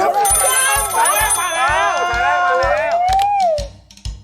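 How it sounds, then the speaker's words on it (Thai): A telephone rings under loud music with a steady thumping beat and a melodic tone line, the electronic ring sounding briefly near the start. "เดี๋ยวพอเสียงโทรศัพท์ดังสะดุ้งเลยหรือเปล่า"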